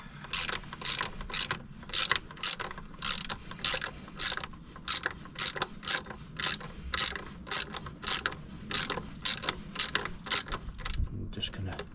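A ratchet tightening bolts on a twin-turbo Nissan 300ZX engine during a rebuild, clicking rapidly in quick regular bursts with short pauses between strokes, loud and close.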